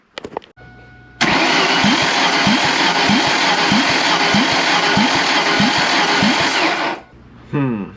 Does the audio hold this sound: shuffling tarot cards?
no